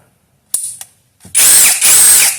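Milwaukee 2904 cordless drill/impact driver, two quick trigger blips followed by two loud, close bursts of high-pitched motor whine that ramp up and down.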